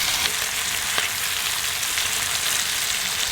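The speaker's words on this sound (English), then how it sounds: "How long has that been frying for now?" Mackerel frying in a pan gives a loud, close, continuous sizzle with a dense crackling hiss and a few sharper pops, heard alone without talk.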